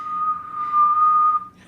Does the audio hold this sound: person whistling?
yes